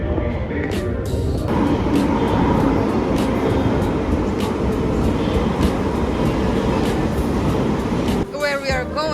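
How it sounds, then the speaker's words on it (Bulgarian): London Underground metro train running, a loud steady rumble and rolling roar throughout, ending with a brief squeal of wheels or brakes near the end. "В момента се намираме в метрото."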